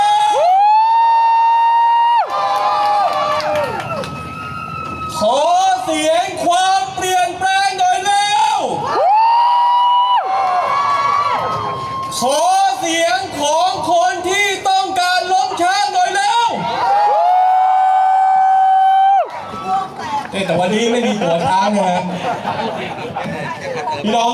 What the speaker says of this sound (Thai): ขอเสียงชาวระยองหน่อยไหม